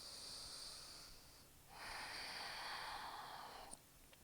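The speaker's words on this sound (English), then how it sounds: "Take 2 rounds of breath." Slow, audible breaths during a yoga hip stretch with ankle crossed over knee: a long airy exhale, a brief pause, then a fuller, louder breath, close to the mic with no talking.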